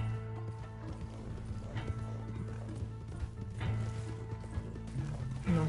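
A horse in the video game Red Dead Online clip-clops along in a steady, continuous rhythm of hoofbeats over a low ambient game soundscape, with no talking.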